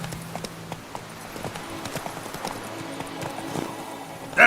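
Hooves of the horse Roach clop along in The Witcher 3 video game, a quick run of distinct, mid-loud hoof beats with faint background noise and a short louder burst at the very end.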